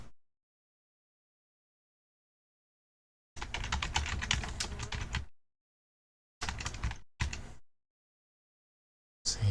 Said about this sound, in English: because I've been typing an awful lot.